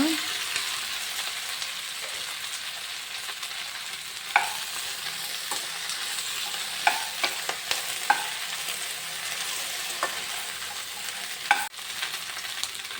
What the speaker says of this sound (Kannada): ಈಗ ಬೆಂಡೆಕಾಯಿನ ಫ್ರೈ ಮಾಡುವ